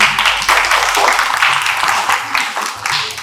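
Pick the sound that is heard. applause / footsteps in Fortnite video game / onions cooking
applause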